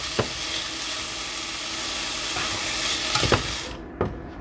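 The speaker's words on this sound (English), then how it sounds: "Let's give it a minute until the oil in bacon is out." Bacon fries in its own rendered oil in a pan, giving a steady close hiss of sizzling with a few sharp pops and crackles scattered throughout before it cuts off.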